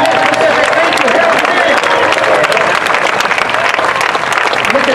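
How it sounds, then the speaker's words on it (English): Large outdoor crowd applauding steadily at a Victory in Europe Day 70th anniversary gathering honoring World War II veterans, dense sustained clapping throughout with a few voices mixed in. "Give yourselves a big applause."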